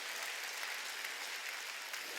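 Steady applause from a church congregation at a Wednesday worship service, a dense continuous wash of many hands clapping without pause, fairly distant and even in level.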